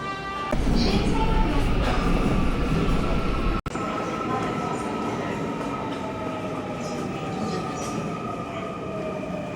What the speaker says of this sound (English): Train's arrived.